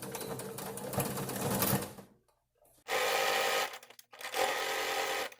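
A sewing machine back stitches through fabric on a stuffed beginner project, running in close, loud whirring bursts. The motor stops briefly, then starts again twice in short runs, with no talking.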